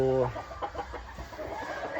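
Chickens clucking close by at a Filipino backyard flock, a short burst of harmonic calls at the start followed by scattered softer clucks and rustling over a steady low background.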